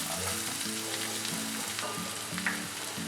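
Onions sizzle steadily in hot oil for a tomato rava bath, a dense, even hiss with faint stirring clicks, close and alone without any voices.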